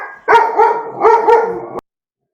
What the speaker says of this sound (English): that was my dog barking or something